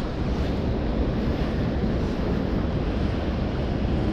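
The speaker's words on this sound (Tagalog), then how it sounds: "Malakas ng agos." Strong water current rushes past, a steady, loud broadband roar with wind buffeting the microphone throughout, no voices.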